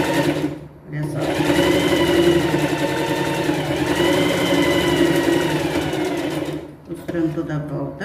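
A domestic sewing machine stitches around a fabric pet backpack, a loud, close, fast mechanical whir running steadily with two short pauses where the machine stops and restarts.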